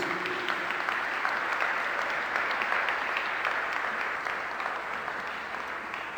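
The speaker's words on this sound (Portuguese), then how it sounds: "Vamos aplaudir essa palavra de Deus" A church congregation claps steadily in sustained applause after a sermon reading, dense and even, with no speech over it.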